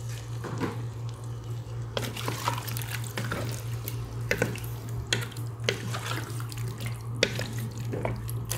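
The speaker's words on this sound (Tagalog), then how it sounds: "At lagyan natin ng tubig, siyempre." Water runs and splashes into a cooking pot on a kitchen stove, a steady close pour with small drips and clinks over a constant low hum, during preparation of chicken breast with mixed vegetables.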